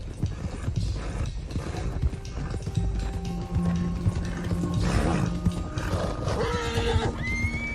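Dense rumble of several horses galloping in Red Dead Redemption 2, hooves pounding continuously, with whinnies and neighs rising over the clatter.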